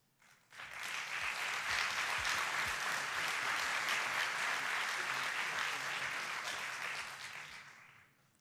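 Sustained applause from an audience at an award ceremony for the best digital project of the year, as winners from A1 Slovenia pose for a group photo; clapping swells quickly, holds steady and fades near the end.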